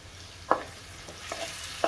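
Ginger and garlic frying in a pan with browned onions: soft continuous sizzle under a few sharp clicks of a spoon scraping and stirring against the pan, close and fairly quiet, no voices.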